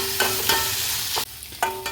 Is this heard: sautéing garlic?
yes